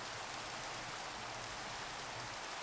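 Rain falls steadily in the Minecraft video game, a constant even hiss of downpour filling the whole span without variation and with no voices.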